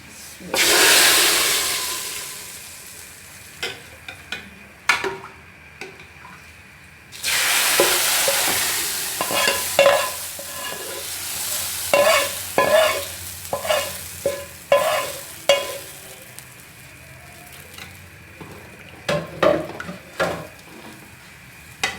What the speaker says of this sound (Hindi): अब इसको मैं दाल में डालूंगी और इसका तड़का लगाऊंगी।